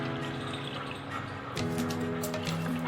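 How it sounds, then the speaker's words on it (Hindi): Water poured into beef mince in a kadai pan for a qeema curry, a close liquid splash that rises in intensity halfway through, with bubbling and dripping over a continuous background hum. "हम इसमें अब पानी डालते हैं"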